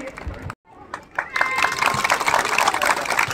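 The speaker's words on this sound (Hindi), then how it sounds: "एक बार जोरदार तालियां में कोई कमी नहीं होना चाहिए।" Audience applause at a village election campaign event, breaking out after a brief gap and swelling into dense, loud clapping from a crowd, with some voices mixed in.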